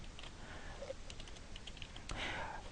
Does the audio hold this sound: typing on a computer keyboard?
yes